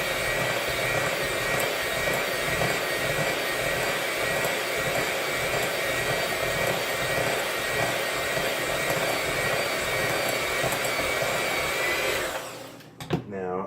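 An electric mixer creams pound cake batter with a steady, loud motorized whir and a rhythmic pulsing churn, running continuously before cutting off near the end.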